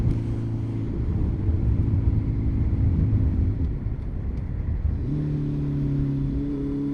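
A Honda CB650R four-cylinder motorcycle engine revs up and settles back, its steady idle hum rising into a smooth climbing whine before dropping and holding again, close and fairly loud.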